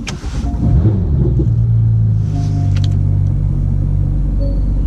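A Porsche 911 GT3 of the 991.2 generation starts up, a brief crank giving way to a loud, steady idle rumble that holds close and alone without talk.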